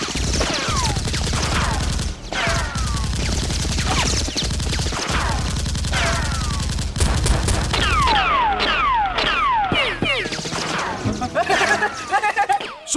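Nerf blasters firing during a staged Nerf war, heard as a continuous motorized whirr with repeated mechanical shots, while people shout over it.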